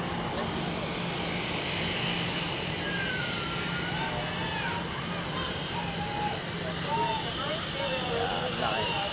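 An American Airlines airliner taxis at Zurich Airport with a steady engine roar and a faint whine, heard from a distance as a constant wash of noise while people talk nearby.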